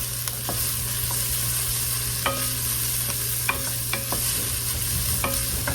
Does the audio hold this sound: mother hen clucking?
no